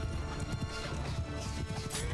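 Cavalry horses gallop across a battlefield in Mount & Blade II: Bannerlord. Many hooves pound in a dense, continuous clatter, with a whinny rising near the end.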